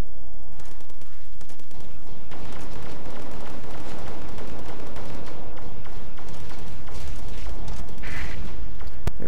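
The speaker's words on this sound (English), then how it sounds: "Spamming rockets always works." Rapid volleys of rockets and guided missiles launching in the space combat game Starfarer, a dense, continuous barrage of loud bursts and crackling blasts with no pauses, layered over a low rumble.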